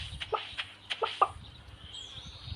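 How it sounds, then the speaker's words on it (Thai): Chickens in the mobile farming game Stardew Valley give a few short, soft clucks in scattered bursts over a quiet background, with no talking. "เฮ้ย ไก่โตแล้วเหรอ"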